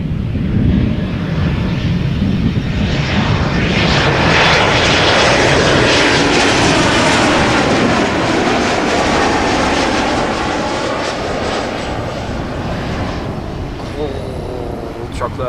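A German Airways jet airliner arrives at Amsterdam Schiphol, its engines roaring loudly and continuously close overhead, then easing slightly as the aircraft passes and recedes.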